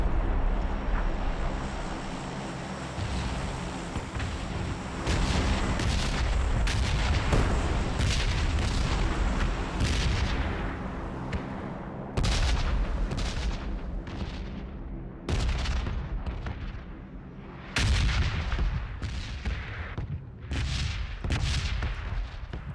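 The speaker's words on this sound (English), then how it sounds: "Damn these bombs." Bombs exploding in the survival video game Miscreated, a rapid series of sharp booming blasts and crackling bursts through a continuous rumbling background, repeated irregularly with brief gaps.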